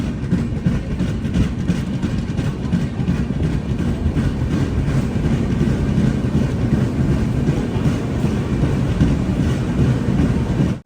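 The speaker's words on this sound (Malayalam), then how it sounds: "ട്രെയിൻ ഇതാ ആന്ധ്രാപ്രദേശിലെ സമൽകോട്ട് ജംഗ്ഷൻ സ്റ്റേഷനിലേക്ക് എത്തിക്കൊണ്ടിരിക്കുകയാണ്" The Vivek Express rolls into Samalkot Junction station in Andhra Pradesh with a loud, continuous rumble, steady wheel clatter and heavy low engine drone holding for several seconds before cutting off abruptly, with no voices over it.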